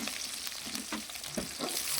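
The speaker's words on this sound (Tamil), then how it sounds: "வெங்காயம் போட்டு நல்லா வதங்கணும்." Onions and tomatoes sauté in a hot pan with a steady close sizzle, interrupted by the soft scraping and tapping of stirring.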